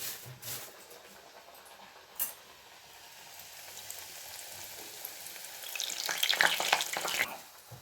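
Sweet corn fritters (garelu) frying in hot oil, a steady sizzling hiss close by that starts low and swells into louder, busier crackling near the end, with a couple of brief knocks and no talk.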